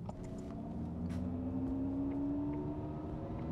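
Mercedes-Benz EQS electric car's sporty artificial drive sound under throttle, a low synthetic engine-like hum rising in pitch over a few seconds, quiet and steady inside the cabin with no talk.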